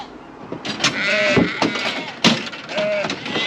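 Sheep and lambs bleating in a pen, several loud, close, wavering calls that overlap one another, with a voice talking briefly under them.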